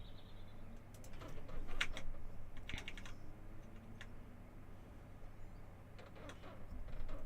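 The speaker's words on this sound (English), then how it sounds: "If I can actually type, that'd be handy as well." Quiet, close typing on a computer keyboard, with irregular clusters of light key clicks over a soft background hum.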